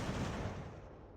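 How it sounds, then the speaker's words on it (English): Cannon fire in the video game Ultimate General: American Revolution, a single heavy, rumbling boom that rolls out and slowly fades over about a second. "hopefully with a couple more cannon shots"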